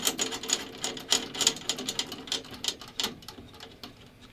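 Snare drum tension screws are turned by hand on a Calftone-headed snare, giving a close series of light, rapid ticking and rattling clicks that fade toward the end.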